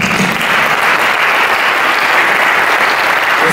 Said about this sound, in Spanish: les pido un aplauso para él también